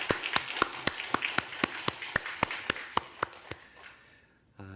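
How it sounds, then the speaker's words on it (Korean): Church congregation clapping in praise, sharp and evenly rhythmic in unison at a moderate pace, about sixteen claps before the sound breaks off abruptly into a short low burst at the end. "우리 하나님께 영광의 박수 올려드립시다."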